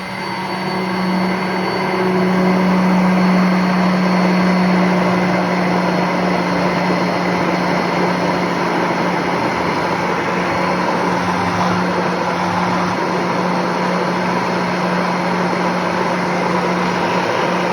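An immersion blender whips homemade mayonnaise, its motor holding a loud, steady whirring drone for the full stretch and rising slightly in strength after the first couple of seconds, with no voices.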